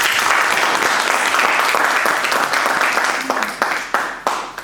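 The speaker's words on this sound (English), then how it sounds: "another round of applause for Mr. Sisi" Loud applause from a masterclass audience, a full dense roar that thins into a few distinct separate claps as it dies down.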